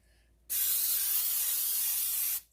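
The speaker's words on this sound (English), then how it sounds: "we're going to spray our casserole pan. Not a lot, just very lightly" A steady, hissing aerosol spray of cooking oil onto a casserole pan lasting about two seconds, close and loud, starting and stopping abruptly.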